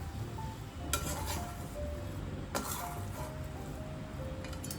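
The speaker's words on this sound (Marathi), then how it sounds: "लिंबू टाकल्यानंतर आपण पुन्हा एकदा छान असं मिक्स करून घेऊ" Spinach pulao being mixed in a pan after lemon is added, soft scraping stirs with a couple of light metallic clinks from the utensil against the pan, faint and close.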